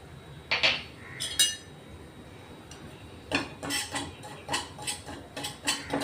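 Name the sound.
semolina (rava) being dry-roasted and stirred with a spoon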